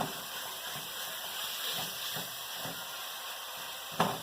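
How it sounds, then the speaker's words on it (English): Steady, faint sizzling of ground turkey frying in a hot pan, a continuous crackling hiss with a sharper pop near the end. "So you hear that nice sizzle."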